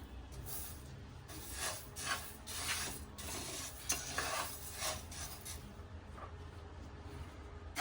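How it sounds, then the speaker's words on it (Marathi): Coriander seeds dry roast in a pan, a dry, rustling rattle as a spoon stirs and scrapes them around in rhythmic sweeps, with a low background hum underneath. "आता आपण धणे भाजूया एक किलो धणे अर्धे अर्धे करून भाजायचे"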